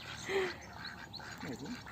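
A few soft duck quacks, fairly faint, over quiet outdoor background noise.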